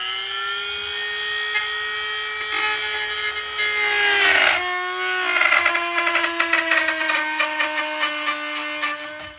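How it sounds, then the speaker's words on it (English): A power tool whines steadily as it cuts a sound hole in koa guitar wood, pitch dropping under load, followed by rapid rasping bursts of cutting, close and loud. "One of the most nerve-wracking things I do here is cut a hole in these things."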